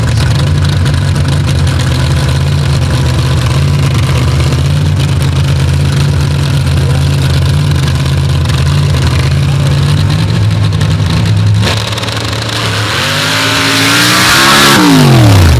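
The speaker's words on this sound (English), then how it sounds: "Let's see what Keith can do as he's purging the nitrous, running the single right now in session 1 of the Modified" A nitrous-equipped Modified-class drag racing car purges its nitrous, then launches down the track. A steady loud engine drone builds into a rising, sweeping roar toward the end.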